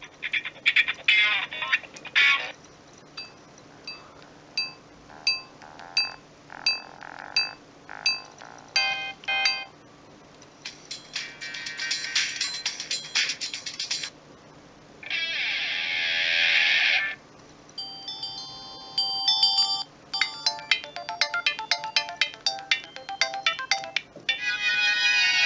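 A Siemens CX75 mobile phone runs through polyphonic ringtone melodies: a series of sharp repeated chime notes, then denser sustained passages and rapid tinkling runs, stopping and restarting several times, close and loud.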